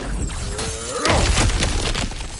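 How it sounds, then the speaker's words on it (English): A cracked floor shatters underfoot in God of War, a sudden loud crash of breaking stone and debris about a second in, tumbling into a few seconds of rubble settling after a quieter lead-in. "back to smashing through things for fun and profit"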